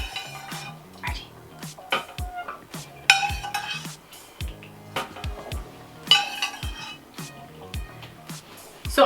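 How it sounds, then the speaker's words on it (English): A slotted spoon scoops cooked chickpeas in a home kitchen, scraping and clinking against a pot in a string of sharp metallic taps and knocks with short pauses between, close and fairly clear. "I'm using a slotted spoon to make sure that we don't get the chickpea juice that we cooked it in"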